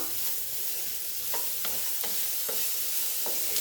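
Beetroot and potato curry is stirred in a hot pan, giving about five rhythmic spoon scrapes over a constant, loud sizzle.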